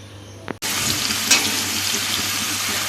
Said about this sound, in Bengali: কড়াইতে সর্ষের তেল গরম করে তেজপাতা শুকনো লঙ্কা গোটা জিরে গোটা গরম মশলা ফোড়ন দিয়ে